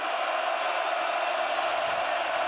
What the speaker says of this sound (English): With the crowd roaring at Reeser.